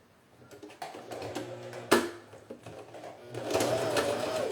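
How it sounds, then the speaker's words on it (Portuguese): A sewing machine stitches fabric for a toiletry bag, its motor whirring in short bursts and then running steadily louder toward the end, close by with no speech. "Vou costurar aqui agora a segunda telinha dos dois lados"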